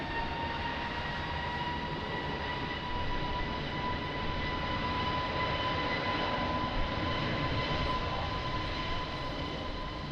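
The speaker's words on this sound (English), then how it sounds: "next to land is Turkish" Steady, loud roar of a Turkish Airlines jet on landing approach at Lisbon Airport in strong wind, a constant broadband engine rumble with a faint tonal whine throughout, no talk.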